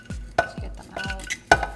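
A fork scrapes and clinks against a canister jar while pulling out sprouted lentils, with a few sharp metallic taps and soft scraping strokes, close and fairly loud.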